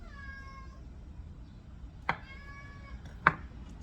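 A determined house cat meows repeatedly in a kitchen, a series of clear, close cries, with two sharp knocks or chops cutting in between them.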